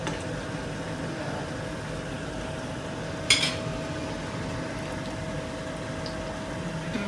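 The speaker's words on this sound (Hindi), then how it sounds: "तड़का हो गया।" A low, steady sizzle of spices tempering in hot oil in a pan runs throughout, with a brief sharper crackle midway; no one speaks.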